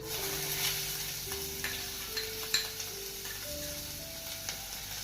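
Finely chopped onion with cumin and asafoetida sizzles in a pan, a quiet steady frying hiss broken by a few light stirring scrapes and clicks, with a faint humming tone underneath.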